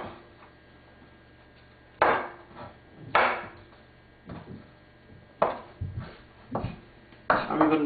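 A sharp knife slicing red and green chilies on a board for chili chicken, giving a handful of crisp, close chopping knocks at irregular intervals over a quiet background with no talk.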